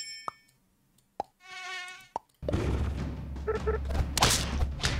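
Buzzing of a Mosquito unit in a strategy video game, a thin whine heard in short bursts amid dings and thumps before a busier stretch of game effects and impacts.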